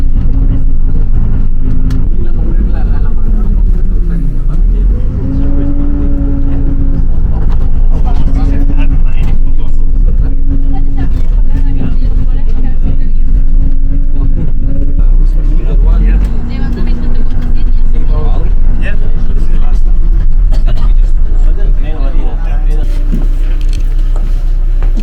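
A city bus engine labours loudly up steep narrow Lisbon streets, a deep heavy drone with wavering pitch and occasional strain throughout, a voice talking over it.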